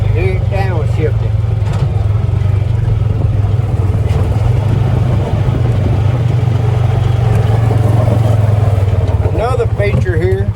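Honda Pioneer 500 utility vehicle driving and downshifting: a loud, close engine drone with a deep steady rumble and shifting revs, and a voice talking over it.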